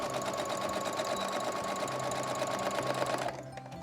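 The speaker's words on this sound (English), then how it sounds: "sewing on the outside." Sewing machine stitching fabric for a see-through face mask, a steady fast mechanical whir with rhythmic needle clatter close by, running continuously for about three seconds before stopping abruptly.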